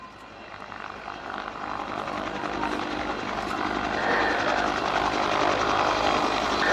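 A Westland Whirlwind helicopter flies slowly past at an air day during a winch demonstration, its rotor and turbine roar steady and gradually growing louder as it draws nearer.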